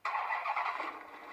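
A car engine starts up abruptly and settles into a loud, steady running drone with a slight squealing edge, heard close and alone.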